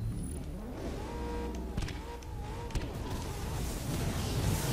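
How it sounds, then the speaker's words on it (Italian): Car engine from the racing video game Split/Second Velocity, a steady droning motor with shifting revs and tonal whine, moderately loud and continuous, with occasional sharp knocks. "Dio mio, ma che rumore fa sta macchina?"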